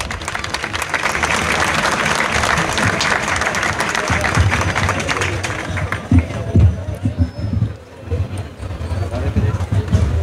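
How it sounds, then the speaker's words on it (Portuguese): Audience at a Festa de Yemanjá celebration applauds continuously, a broad wash of clapping mixed with crowd babble and voices, thinning toward the end into scattered claps and louder talk. "Uma saudosa salva de palmas"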